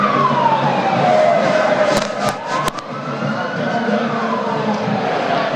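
A siren wails with rising and falling pitch over a steady crowd murmur at a presidential inauguration in Nigeria, with a few sharp clicks partway through.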